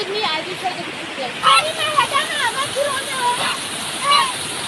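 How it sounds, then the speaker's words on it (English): Water rushes steadily at Hussainabad waterfall in Skardu Valley, with splashing under someone talking loudly over the noise. "now we are in the Husnabat waterfall"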